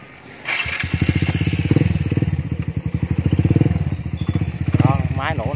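A Suzuki GZ 150C Fi 2013 motorcycle engine idles close up with a steady, even exhaust putter throughout, while someone talks briefly over it near the end.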